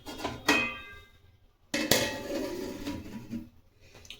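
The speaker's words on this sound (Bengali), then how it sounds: "ঢাকনা দিয়ে দেওয়া হবে" A metal lid is set onto a cooking pot holding a plum cake: two distinct clanks with a short ringing decay, the second followed by a brief rattle as it settles, close and fairly loud in a quiet kitchen.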